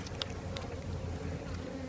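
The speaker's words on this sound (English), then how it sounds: "I'd have been a bit stuck with these bees everywhere, even though there are already bees everywhere." Honeybees buzz around an apiary hive, a steady droning hum with several bees passing close by in brief louder swells, continuous and outdoors with no talk.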